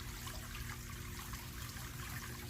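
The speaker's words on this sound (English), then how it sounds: "see if we get some water pumping through there" Water rushing steadily through a SunSun JUP-23 UV clarifier just hooked up beside a pond, a constant close hiss and gurgle with no pauses.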